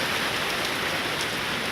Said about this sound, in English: the rain is really coming in pretty far onto the porch